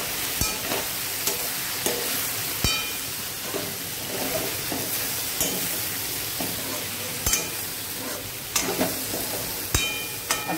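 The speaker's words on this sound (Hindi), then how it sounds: "अभी मैं अपनी सब्जी देख रही हूँ, ये फ्राई हो चुकी है अच्छे से" Okra and potato sabzi frying in a pan, a steady close sizzle broken by sharp clinks and scrapes of stirring at irregular intervals, with no talking.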